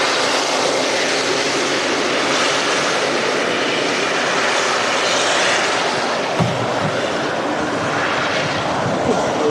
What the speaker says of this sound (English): Looks like the Aer Lingus A321neo heading out to JFK as well.